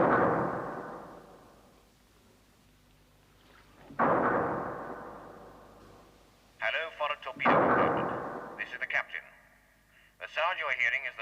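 A bolt-firing gun punches holes in a submarine's port-side pressure hull, producing a few heavy booming blasts that decay slowly, each followed by rattling, warbling metallic clatter, with a voice talking between them.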